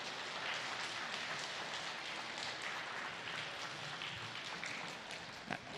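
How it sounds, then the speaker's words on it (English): Sustained applause from a crowd of families at a 5th grade continuation ceremony, a steady broadband patter of many hands clapping with no break. "I want you to give your parents and your family a round of applause for all the support they've given you"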